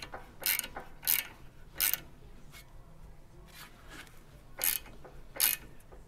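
Ratcheting wrench turning a nut to draw a wheel hub into place on a Mitsubishi Outlander in a workshop; five or six short, separate ratchet bursts spread out with quiet pauses between them, no talking.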